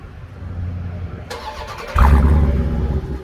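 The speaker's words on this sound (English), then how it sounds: "I'm actually going to demonstrate the remote start. Maybe we can hear a pretty nice start from that V8." A 2021 Dodge Durango SRT 392 with its V8 starts by remote start, a starter crank followed by the engine firing into a loud, deep rumbling idle, heard close up.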